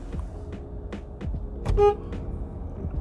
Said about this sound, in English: making sure I'm not missing anything before I let you guys hear this horn.